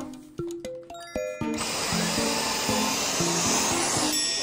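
A household vacuum cleaner switches on after a few clunks and knocks, then runs with a steady loud whine and roar that stays close and constant to the end, with no voices.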